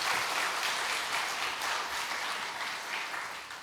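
Congregation applause during a church service, a sustained, dense roar of many people clapping together at moderate volume that eases a little toward the end, with no voices on top.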